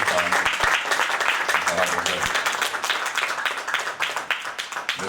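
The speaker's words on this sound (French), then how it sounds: "s'il vous plaît, vos applaudissements pour notre diva" Audience applause for a singer at a cultural evening at the Institut français in Tlemcen, brisk, fairly loud clapping from a crowd with some distinct sharp claps, a voice speaking over it part of the time.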